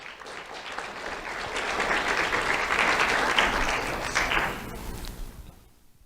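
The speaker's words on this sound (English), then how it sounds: "Let's have a round of applause for Zerai Reyes." An audience at a sheriff's office awards ceremony breaks into sustained applause, swelling to a full dense clatter of clapping before tapering off near the end.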